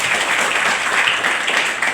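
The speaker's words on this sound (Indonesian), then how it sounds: "Tepuk tangan untuk Pak Ismail." An audience at a school civic-education session claps steadily for a short burst of about two seconds, loud and close, with no talking over it.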